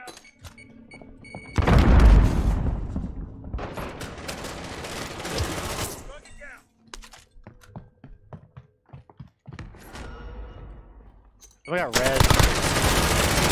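Video game gunfire comes in heavy automatic bursts, loud and close, then scattered single shots and more long sustained volleys. Players talk briefly in between.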